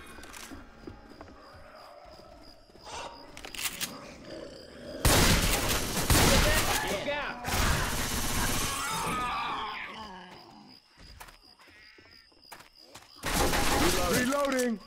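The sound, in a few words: gunfire with explosive rounds in video game Left 4 Dead 2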